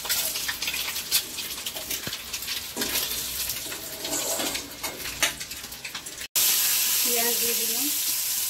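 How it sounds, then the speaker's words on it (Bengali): Halved boiled eggs fry in hot oil in a pan, giving a steady close sizzle with light scraping as they are turned, followed by a louder, denser burst of frying near the end. "নিয়ে এগুলোকে আমি ভেজে নেবো।"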